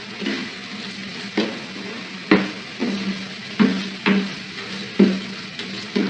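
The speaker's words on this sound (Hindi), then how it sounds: "आप देख सकते हैं कि हलवा कितने अच्छे तरीके से भुना जा रहा है।" Egg and paneer halwa roasting in desi ghee is stirred in a pan, a low frying hiss broken by regular, rhythmic scraping strokes roughly every second.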